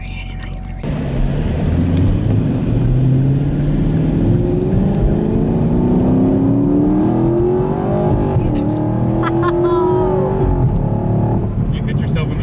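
A Chevrolet Camaro SS 1LE engine fires up close by and settles into a deep, steady idle, then climbs through gradual revs before easing back, with quiet voices under the engine.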